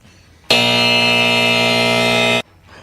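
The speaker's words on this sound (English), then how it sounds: "regardless of the buzzer there" A loud, steady electronic game-show-style buzzer blares for about two seconds as one continuous harsh tone, starting and stopping abruptly, with quiet room sound before and after during a live sports talk stream.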